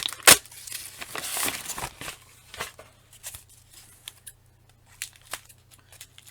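Scissors snip through packing tape on a mail package, a sharp close cut at the start followed by scattered crinkling, rustling and light handling clicks of cardboard and tape.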